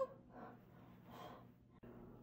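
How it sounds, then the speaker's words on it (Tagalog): A person breathes heavily after exercise, with two or three slow, faint, breathy gasps heard close by and no talking. "Grabe yung hingal ko sa ginawa nating exercise."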